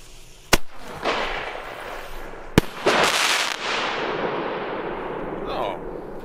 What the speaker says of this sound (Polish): Single shotiki takie fajne do zabawy, dość głośne.